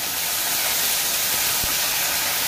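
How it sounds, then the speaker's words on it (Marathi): Soaked urad dal fries in hot oil with a steady, loud hiss and sizzle that runs without a break, with no talking over it. "डाळ मस्त तेलामध्ये फ्राय झाली आहे बघा।"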